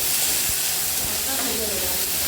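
Onions and chillies frying in a pan of oil for Bengali potato chops, a broad steady hiss with a couple of soft knocks and faint voice in the background.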